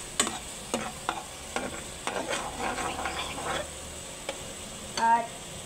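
Sautéed ingredients for creamy sopas are stirred in a pot, giving scattered scraping clinks and soft sizzling across a few seconds, fairly close and moderately loud, with no talk.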